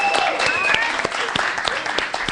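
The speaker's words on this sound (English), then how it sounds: "Let's get a round of applause one more time." Loud, lively applause from a crowd at a spring event, dense clapping with cheers and whoops mixed in, running steadily throughout.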